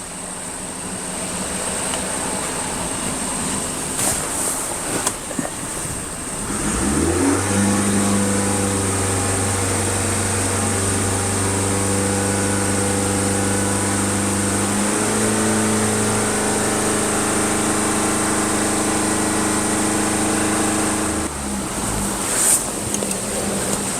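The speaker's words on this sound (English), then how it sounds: "raise the RPM up to high idle" A 2021 Ford Transit Connect engine idles, then climbs to a steady high idle and holds there as a loud, continuous drone before settling back down.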